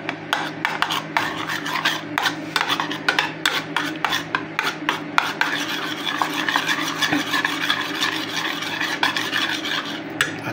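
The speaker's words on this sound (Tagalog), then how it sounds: "Lalagay na po natin ang ating lemon. Ayan, haluluin po natin yan." Homemade mayonnaise is stirred briskly in a bowl after lemon is added, giving a steady, close scraping and rasping with quick repeated strokes and light clinks of the utensil against the bowl.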